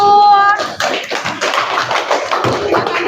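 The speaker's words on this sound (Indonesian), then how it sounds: "Beri tepuk tangan untuk kelompok 1." A group of children clap for a classroom group presenting a light experiment, dense rapid claps filling the whole stretch, loud and close, with a brief tone and murmur at the start.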